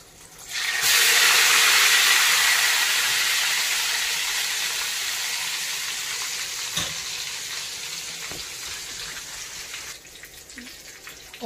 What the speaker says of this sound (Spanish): Y los dejo que se estén dorando y según al gusto.